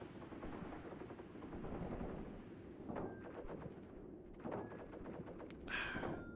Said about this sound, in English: you can just see where the MGs are firing